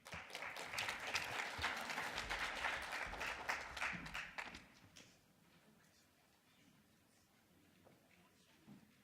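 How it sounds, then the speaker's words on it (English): Audience applause at a conference panel session welcoming a facilitator, with sharp, distinct claps for about four and a half seconds before fading into quiet room noise with faint shuffling. "A round of applause for him, please."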